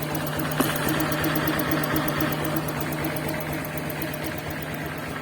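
A Honda Click 125i scooter engine idles close by, a quiet, steady, fast mechanical ticking hum with one small click near the start and no talking.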